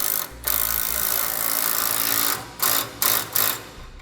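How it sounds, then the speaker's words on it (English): A ratchet fitted with a 15mm socket tightens flange lock nuts on a sliding fifth wheel hitch, making loud rapid clicking bursts. One long run of clicks is followed by several short strokes with brief pauses between them. "Now we use a 15mm socket and we'll tighten these down"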